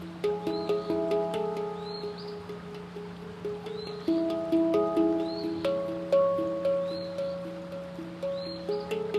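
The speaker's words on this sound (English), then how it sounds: "I looked up this bird. I did a little sound identification thing" An Eastern Phoebe sings in short, repeated chirps high above a steady handpan melody, the birdsong faint and recurring every second or two throughout.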